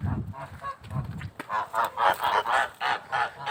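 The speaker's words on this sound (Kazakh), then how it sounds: "Қаздар кіргізейін." Farmyard geese being let in give a run of loud, repeated honks in quick rhythmic succession, after some lower grunting calls at the start, close by and alone.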